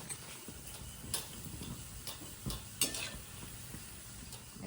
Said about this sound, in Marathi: बघा मम्मी आणि आजी इथे बसून भज्या तळत आहेत